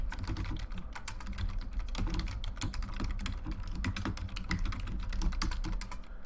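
Fast, continuous typing on a computer keyboard while writing a Ruby config.ru rackup file, dense overlapping key clicks up close with no pauses and no talk.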